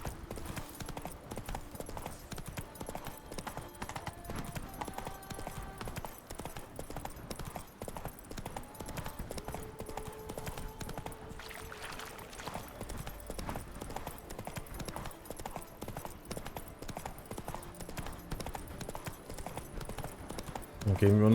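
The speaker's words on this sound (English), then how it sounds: "Ah, komm her, Roach. Giddy up. Giddy up." Horse hooves clip-clop at a steady, continuous rhythm in The Witcher video game, running the whole way through at moderate level with a voice speaking over it.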